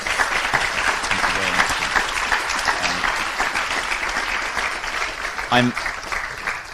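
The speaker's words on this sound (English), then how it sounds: "I think we should give Rich a round of applause" Conference audience at a CogX 2019 panel event giving a speaker a round of applause: dense, sustained clapping from a large crowd throughout, with a voice briefly heard over it near the end.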